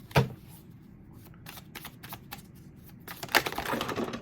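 Tarot cards being shuffled by hand, giving soft, quiet riffling clicks and taps in uneven bursts with a slightly louder flurry near the end.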